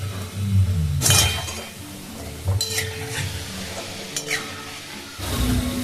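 Cashew nimki, flattened flour dough pieces, frying in oil, giving a continuous sizzle with stirring sweeps and light clinks of a utensil against the pan, close and fairly loud.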